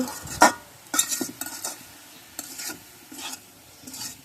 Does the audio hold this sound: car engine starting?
no